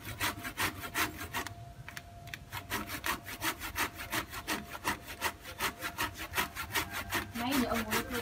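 A hand saw cutting through the trunk of a bonsai fig tree in quick, even back-and-forth strokes, close and rasping, with a brief pause partway through.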